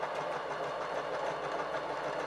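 A sewing machine runs a zigzag stitch on stretch fabric, giving a steady, fast mechanical whirr with a fine rapid pulse, close and continuous, with nobody talking.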